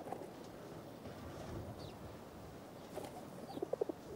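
Pigeons perched on a housing estate rooftop give faint, distant coos, with a short run of soft pulsed calls near the end over low outdoor background noise.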